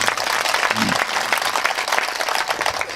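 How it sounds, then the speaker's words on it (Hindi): Hearty audience applause at a Hindi comedy poetry gathering in Rajasthan, a dense, continuous crowd clapping that fills the whole stretch, loud and close. "बात अगर पहुंच जाए तो फिर तालियों से सूचित करना"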